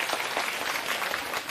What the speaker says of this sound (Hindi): ताली बजा दिए